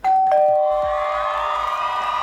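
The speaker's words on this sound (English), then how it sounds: "Alas, the doorbell." A doorbell chimes loudly nearby, two tones ringing out and then slowly decaying over a faint background murmur.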